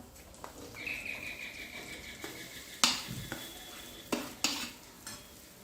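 A spoon stirs potatoes into chilli and turmeric frying in a pan, giving a low background sizzle with intermittent scraping clatters and knocks from the utensil.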